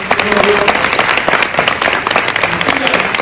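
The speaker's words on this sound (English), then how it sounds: "Give her a round of applause" Audience applause for former President Mary Ashanti at a live radio event, dense steady clapping throughout with some voices mixed in.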